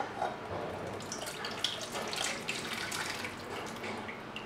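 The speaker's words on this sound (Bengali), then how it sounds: "এখন এই টিফিন ক্যারিয়ারে আমি, টিফিন ক্যারি বাটিতে আমি এই মিশ্রণটা ঢেলে দিচ্ছি।" A mustard and hilsa fish mixture is poured into a tiffin carrier bowl, giving a soft continuous wet, liquid rush close by with no talking.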